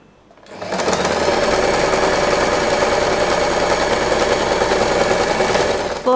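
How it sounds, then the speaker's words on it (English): A sewing machine stitches folded fabric for a bow, starting up quickly and running in a steady, rapid mechanical rattle for about five seconds before stopping. "I am going to fold the fabric in half"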